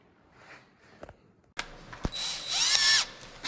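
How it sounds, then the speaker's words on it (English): A power drill bores a pilot hole into a metal cab mount for a 1929 Ford Model A rat rod, whining up after a few quiet clicks and rising in pitch as the bit bites, fairly close and alone. "I'm just drilling a pilot hole in the center of this"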